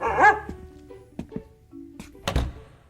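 A single dog bark rings out at the start in an office building, followed by a few soft thumps and knocks, ending with a louder thud.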